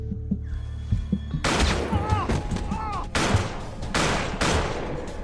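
Gunfire from the series Under the Dome: a burst of several sharp, loud shots in quick succession, mixed with a dramatic film soundtrack and shouting voices.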